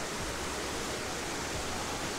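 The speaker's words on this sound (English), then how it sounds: "This is the great Usutu River" The Usutu River in Eswatini rushes steadily and loud and close, a dense broadband wash of flowing water holding even throughout with no voices.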